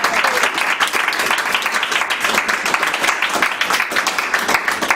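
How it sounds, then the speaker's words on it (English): An audience claps for a panel of speakers at a business event, a dense burst of applause holding steady for about five seconds with no voices over it. "Can we give them a round of applause?"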